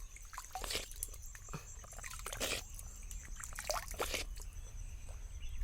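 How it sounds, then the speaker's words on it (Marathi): Quiet spring water trickles steadily with soft splashy bursts rising and falling, close by and unaccompanied by voices. "मस्त झऱ्याचं पाणी हा थंडगार एकदम"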